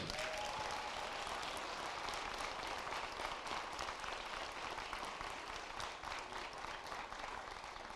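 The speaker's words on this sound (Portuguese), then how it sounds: "Uma salva de palmas aí, né, gente?" Sustained audience applause at a talk on the criminalization of peripheral culture, a dense steady wash of many hands clapping with crowd noise, filling the whole stretch without pause.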